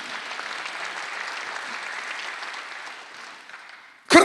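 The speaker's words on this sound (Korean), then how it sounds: "박수하세요." A church congregation applauds during a Sunday worship service, a steady wash of many hands clapping that slowly thins out, ending in a sudden loud thump.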